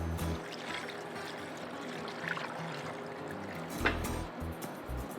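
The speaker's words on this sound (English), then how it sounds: "Now I'm going to cover this with cold water." Cold water is poured over turkey giblets in a stockpot in a kitchen, a faint continuous trickle and gurgle heard up close with no talking.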